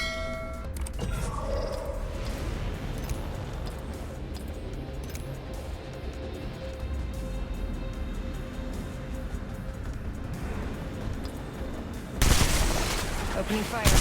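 Continuous rattling gunfire from a shooter game plays on a phone, with dense bursts running steadily throughout and a louder, sharper stretch near the end, mixed with game voice callouts.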